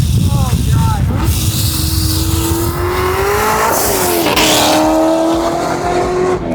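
A go-kart fitted with a Corvette engine tears around with a loud, continuous roar, its revs rising and falling while the tires squeal repeatedly.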